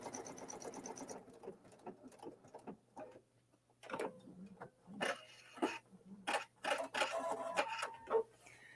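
A PFAFF sewing machine runs a few stitches forward, then reverses to taper a box-frame stitch pattern, giving short bursts of close mechanical whirring and ticking separated by brief pauses, with no voices.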